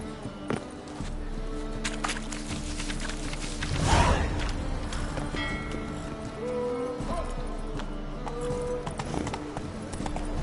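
Roach the horse in a video game, hooves clip-clopping steadily as it gallops and then eases, with a whooshing swell in the middle, game music and a voice briefly over it.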